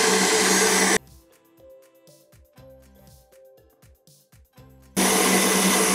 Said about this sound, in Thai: เรามาตีไข่ขาวกันนะครับโดยนำไข่ขาวเทใส่อ่างผสมนะครับคีมออฟพาท่าครับ แล้วก็ตีให้ขึ้นฟูนะครับเกิดเป็นฟองหยาบครับ